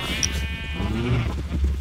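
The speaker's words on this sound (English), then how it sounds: "These sheep are escaping." Sheep bleating in the Minecraft video game, a couple of short wavering bleats in quick succession, loud and close, with no talk over them.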